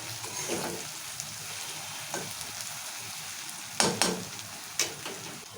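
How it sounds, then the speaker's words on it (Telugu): Onions frying in a pan for a Telugu-style chicken curry, a soft steady sizzle close by, broken by a few sharp clinks and stirring scrapes toward the end. "సో ఇప్పుడు ఉల్లిపాయలు మంచిగా రెడ్డిగా మగ్గేంత వరకు ఫ్రై చేసుకోవాలి"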